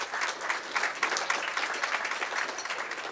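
Audience members at a graduation and recognition ceremony give a judge who served as awards co-chair a warm round of applause, with steady, fairly dense clapping from a roomful of people that continues evenly throughout.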